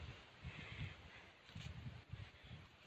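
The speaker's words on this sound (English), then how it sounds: "It's windy here." Gusty wind at an outdoor spot, a rustling hiss that swells and fades with low rumbling buffets against the microphone, no talking.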